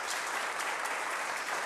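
Brief burst of dense applause from a city council chamber audience honoring a teacher of the month, steady and moderately distant throughout.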